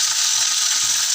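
Dry red chillies and curry leaves sizzle in hot oil for a tempering, a loud, steady close-up crackle and hiss that runs unbroken with no voices over it.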